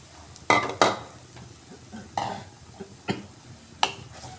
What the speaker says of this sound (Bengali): এবার এই তেলের মধ্যে আর ঘি মিক্সডের মধ্যে আমি এক কাপ সুজি নিয়েছি সুজি দিয়ে দিলাম